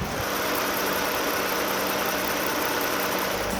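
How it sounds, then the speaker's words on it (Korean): The 3.5-litre gasoline engine of a Lexus ES350 idles steadily at close range, a continuous even rumble with a faint mechanical whir and no change in pace. "엔진음 들려드릴게요"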